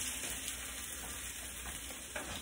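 An omelette with peppers fries in a pan, a soft steady sizzle with faint scraping stir sounds, quiet and continuous throughout.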